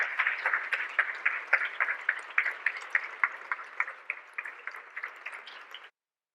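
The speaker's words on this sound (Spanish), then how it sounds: "recibimos a ambos que toman ya posición en nuestra mesa de expertos con un fuerte aplauso" Dense applause from an audience at a public meeting with citizens held by a health research institute, a steady patter of many hands clapping for about six seconds before thinning out and stopping abruptly.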